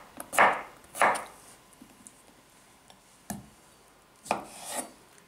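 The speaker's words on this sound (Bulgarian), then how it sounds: "На две и режем на такива парченца." A knife cuts pickled cucumbers into pieces for a chicken, corn and mayonnaise salad. About five sharp chops hit a board at uneven intervals with quiet scraping in between, close by and without talk.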